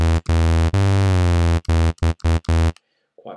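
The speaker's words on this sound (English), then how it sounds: "On the far left hand side here we've got a sawtooth wave" Bright, buzzy sawtooth tone from the ES M synthesizer oscillator, played as a string of sustained and short notes with brief gaps and a slight pitch glide, loud and clean, followed by a faint voice at the end.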